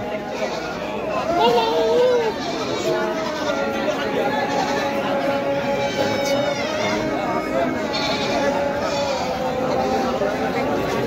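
Goats bleat at a busy livestock market, several short wavering calls rising over a constant crowd murmur while people talk nearby.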